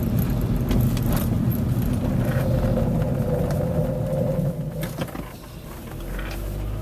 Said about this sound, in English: the scraping noise is that I heard when I was hitting the